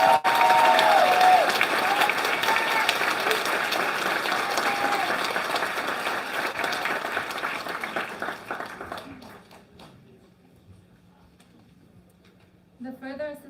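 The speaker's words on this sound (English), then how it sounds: "Give them a round of applause." Audience applause at a New Blue Ontario campaign launch: loud, sustained clapping with some cheering from a crowd that fades away after about nine seconds. A brief burst of sound returns near the end.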